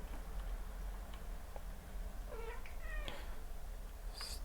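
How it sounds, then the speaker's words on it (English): A house cat meows in a few short rising cries near the middle, moderately loud over a steady low background hum, with no speech. "My cat keeps screaming."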